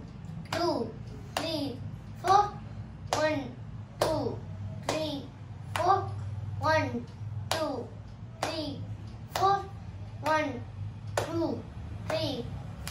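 Hands clapping a slow, steady beat for a children's "Little Bird" rhyme in 4/4 time, about a dozen crisp claps evenly spaced, each followed by a child's sung syllables.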